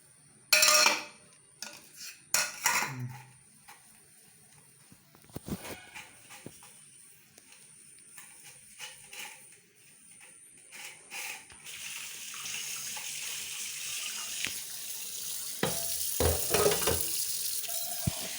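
Running tap water splashing into a sink while dishes are washed, with clinks and clatters of pots, plates and cutlery at first, then a steadier, louder stream of flowing water toward the end.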